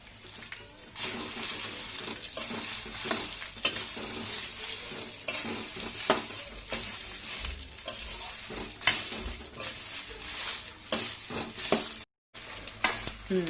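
Dry red chillies and sesame seeds fry in a hot pan with a steady sizzle, broken by repeated scrapes and knocks of a spoon stirring them, with one short silent gap near the end.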